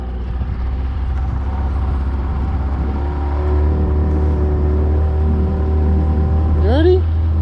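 A car pulls away at the start of a drive with a dingo aboard, a steady low engine hum rising and then a short rising rev near the end, heard from inside the cabin.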